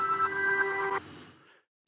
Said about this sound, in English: And when we reverse it, it sounds like this.